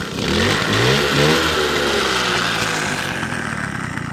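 A Peugeot 103 SP Pro moped with 9000 original km catches and revs, its small two-stroke engine buzzing loudly and rising in pitch before settling toward a steadier run, with no voices.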